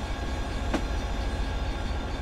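A train in Train Simulator 2017 on the Settle to Carlisle line slows to a halt, giving a steady, close rumble of rolling wheels and rail noise with a brief squeal, continuous and unbroken throughout.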